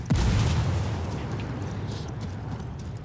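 Frag grenade blast in the tactical shooter game Ghost Recon Wildlands: a single loud, deep boom at the start that rolls into a long, slowly fading rumble.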